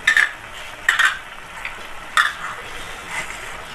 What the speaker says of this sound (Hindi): ये साथ साथ हमारा गोश्त फ्राई हो रहा है, साथ साथ मसाला बन रहा है